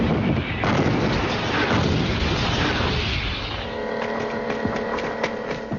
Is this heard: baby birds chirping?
no